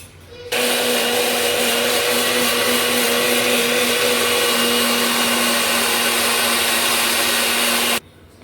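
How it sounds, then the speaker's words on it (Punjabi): Electric grinder whirring on whole coriander seeds, a loud steady motor drone that starts abruptly, holds an even pitch for about seven seconds, then cuts off, close and alone. "ਥੋੜਾ ਜਿਹਾ ਅਸੀਂ ਸਾਬਤ ਧਨੀਆ ਨੂੰ ਗ੍ਰਾਈਂਡ ਕਰ ਲਾਂਗੇ ਪੀਸ ਲਾਂਗੇ"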